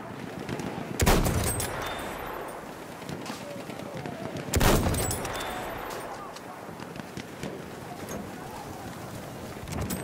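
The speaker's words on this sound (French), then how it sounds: "Attention, mitrailleuse" Video game gunfire crackles in rapid, distant bursts, with two sharper loud blasts standing out amid a continuous noisy battle backdrop.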